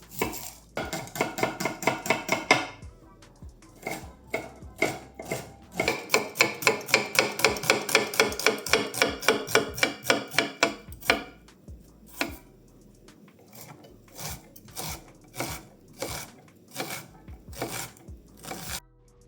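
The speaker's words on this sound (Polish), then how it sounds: "w międzyczasie obieramy i siekamy bardzo drobno dwie cebulki" A knife finely chops two onions on a cutting board, with rapid bursts of sharp rhythmic knocks, dense runs of fast strokes followed by slower, spaced chops, close and clear.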